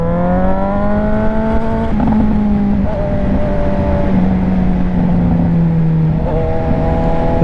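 A Suzuki GSX-S750Z motorcycle rides along a country road, its engine droning loud and steady throughout, with pitch rising through the revs and dipping at gear changes, under constant wind rush.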